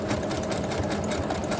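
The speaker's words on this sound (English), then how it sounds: "Sewing them on the sewing machine." A sewing machine stitches double-wefted wig tracks, running with a fast, even mechanical chatter heard close and alone.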